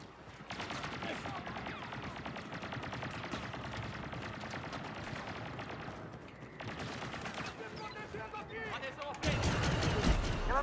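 Blaster and gunfire in a Star Wars video game, a dense stream of rapid shots and mechanical clatter running steadily, with a brief lull before a louder, heavier burst at the close.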